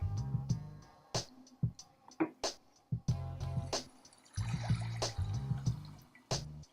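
Ocean water sounds played from a relaxation app on an iPad or iPhone, heard as a series of soft splashes and droplet-like plops at an irregular rhythm, fairly quiet and with no talking.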